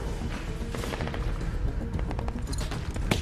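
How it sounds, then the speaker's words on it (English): Distant, chaotic machine-gun fire in The Walking Dead game, a dense rattle of rapid shots blurred together in a noisy, reverberant outdoor scene, with a few sharper cracks near the end. "was that a machine gun?"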